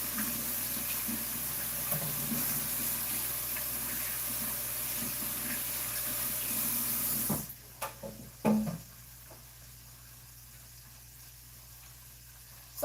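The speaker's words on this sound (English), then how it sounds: "Let me just wash my hands." A kitchen tap runs steadily for hand washing, a close, continuous hiss of water lasting about seven seconds. Then it shuts off, followed by a few knocks and handling sounds.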